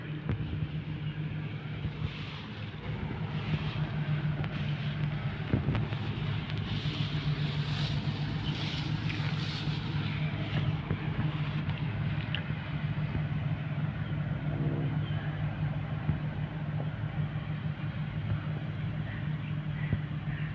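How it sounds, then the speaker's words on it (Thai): A combine harvester cuts off-season rice in a black-soil paddy field, its engine a steady, droning hum with a low tonal whine and wind noise for the whole stretch, heard from nearby. "เป็นรถเกี่ยวของทีมงานปานเจริญการช่างนะครับผมชื่อนี้ไม่ธรรมดานะครับผมเครื่องเงียบเกี่ยวเร็วด้วยนะครับผม"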